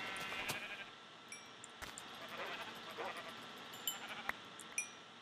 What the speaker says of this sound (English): you can hear the sheep.